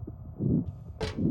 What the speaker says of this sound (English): It kind of sounds like a heartbeat that you would hear in, like, medical situations